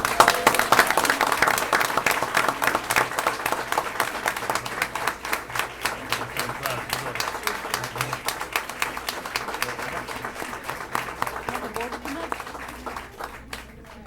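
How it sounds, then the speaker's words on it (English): An audience at a school board meeting applauds teachers and principals with sustained clapping for about fourteen seconds, dense at first and gradually thinning toward the end. "let's give them all a round of applause."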